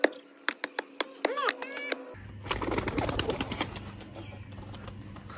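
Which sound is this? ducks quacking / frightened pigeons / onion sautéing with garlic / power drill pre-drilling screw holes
frightened pigeons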